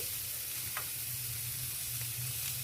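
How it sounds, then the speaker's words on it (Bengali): Washed, salted and drained cabbage fries in hot oil with nigella seeds and dried chilli, giving a steady broad sizzle with a low hum beneath and a couple of faint utensil taps, no voices. "এটাকে একটু ভাজা ভাজা করে নিয়ে আমি দিয়ে দিচ্ছি বাঁধাকপিটা"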